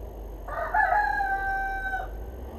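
Gamecock rooster giving a single clear crow of about one and a half seconds, moderately close, over a low background hum.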